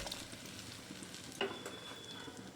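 Ridge gourd and paneer stirred in a pan, giving a soft steady sizzle with a brief scraping clatter partway through, fairly quiet and close, no talking.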